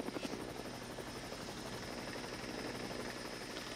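A helicopter films the start of a Volvo Ocean Race sailing leg from Gothenburg to The Hague, its rotor making a steady, fast chopping thrum that fills the clip, fairly close and unbroken.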